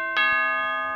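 A two-tone doorbell chime rings once inside the video game Eternal Darkness, a bright ding-dong whose sustained tones hang and slowly fade, clear and alone with no talk.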